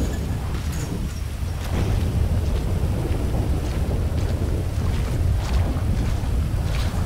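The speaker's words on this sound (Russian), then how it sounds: "А здесь, видимо, еще не просто так гром" Thunder rolls during a storm in the video game Grand Theft Auto V, a loud, continuous low rumble mixed with steady rain-like hiss, with no voices.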